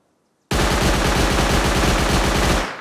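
Gunfire in the survival game Rust erupts after a moment of silence as one loud, sustained automatic burst of rapid shots, close and continuous for about two seconds.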